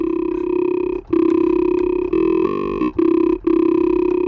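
A buzzy, harmonically rich drum and bass synth tone holds steady, gritty with hard clip distortion, with brief dropouts and a short wobbling pitch shift partway through.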